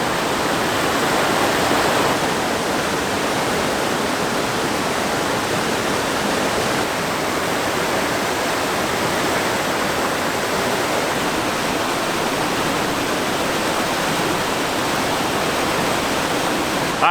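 A river flows steadily beside a winter backcountry campsite, a continuous broadband rushing of water that holds an even, fairly loud level throughout with no voices.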